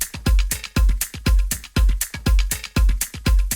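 An Afro house drum loop from a sample pack, with deep punchy kicks landing roughly twice a second under crisp bright percussion and hats, loud, steady and unaccompanied.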